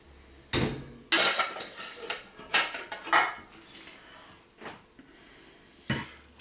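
Pieces of cooked butternut squash tipped and scraped into a bowl, a series of sharp clinks and knocks of utensil and pot against dish, close by with short pauses between.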